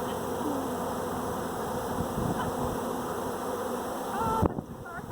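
A swarm of honey bees clusters around their queen, a dense, continuous buzzing hum close to the microphone that stays steady, then is cut by a brief knock near the end.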